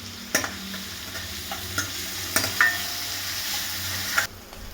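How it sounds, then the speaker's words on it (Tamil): Onions cooked with salt sauté in a pan with a steady close sizzle, broken by several sharp clacks of a spoon stirring against the pan. "வெங்காயம் நல்லா பொன்னிறமாக வதங்கிடுச்சு"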